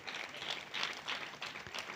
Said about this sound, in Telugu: కొంచెం గట్టిగా చప్పట్లు కొట్టొచ్చుగా